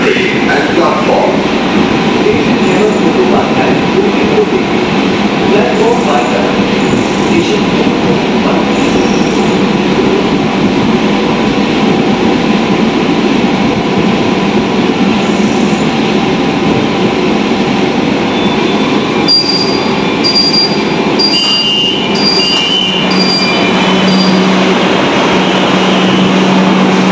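A Kolkata Metro train runs at a station on the Kavi Subhash to Ruby line, with a loud, continuous rumble and a brief wheel squeal near the end, and a public-address voice over it.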